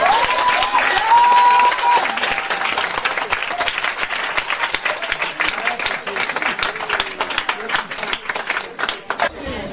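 A church congregation applauding and cheering for Jesus at a prophet's service, loud continuous clapping and shouts that thin into scattered claps toward the end, with a voice speaking over it early on.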